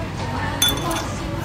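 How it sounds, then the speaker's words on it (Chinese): Glasses clink once in a bright, sharp toast amid a lively group of people talking and laughing. "我们现在干杯！"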